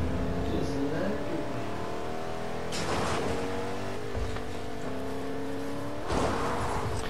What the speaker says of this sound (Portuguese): Olha o caminhão Grump.